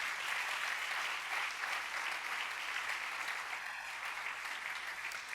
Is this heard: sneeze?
no